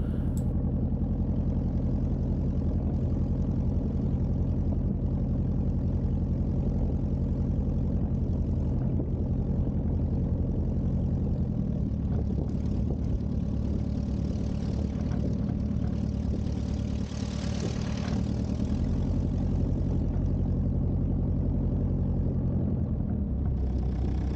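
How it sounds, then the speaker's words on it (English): A light aircraft engine idles steadily and close by at the head of a clifftop aerodrome taxiway, a continuous low drone with a slight change in pitch about halfway through and no talk. "we'll do the engine run-ups before we actually backtrack"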